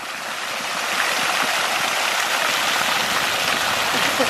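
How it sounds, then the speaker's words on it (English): A waterfall pours down onto people sitting beneath it, making a loud, continuous rushing roar of splashing water close by that holds steady throughout, with no voices heard over it. "I don't like the water fall hitting me."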